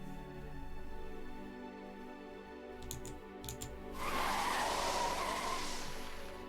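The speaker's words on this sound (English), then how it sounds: "Sounds like a bloody car sound, you know, whenever a car's skidding." A low engine hum gives way to a loud, sustained tire screech that rings on for several seconds.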